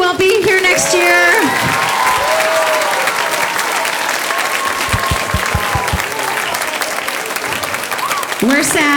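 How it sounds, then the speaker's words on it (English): Audience applause fills an elementary school spring musical of The Lion King Kids, a loud, sustained wash of clapping with a few cheers, under an announcer's voice. "another round of applause for all these fifth graders who won't be here next year"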